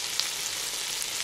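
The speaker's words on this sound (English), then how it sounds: "Incredibly loud sizzle coming on from these." Fish cooking on cedar set directly over an open fire gives off a loud, continuous, hissing sizzle, close and steady throughout, with a few brief crackles and no voices.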